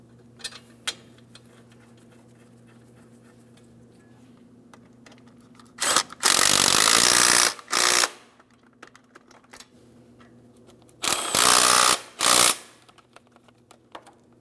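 Caliper bracket mounting bolts on a Toyota Matrix are tightened with a ratchet, producing two loud bursts of rapid clicking a few seconds apart, with faint ticks and a low hum in between.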